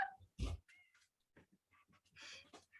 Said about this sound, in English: Some cats. Yeah, they're fighting.